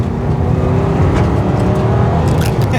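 Aston Martin DB10 with its 4.7 litre V8 engine drives steadily, a loud continuous engine note holding throughout with no speech.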